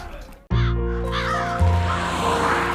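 A crow cawing as a sound effect for the film The Raven with Boris Karloff: one loud, close, harsh caw that breaks in sharply and rings out over a tonal music bed.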